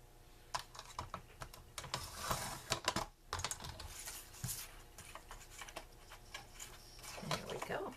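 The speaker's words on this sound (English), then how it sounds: "And I will be cutting this, same thing. The 4 1/4 by 5 1/2." Scissors or a trimmer cutting a clear acetate sheet down to 4 1/4 by 5 1/2 inches for a Valentine's Day card, heard as a run of quiet, close snipping and crinkling sounds with plastic rustle, brief pauses in between.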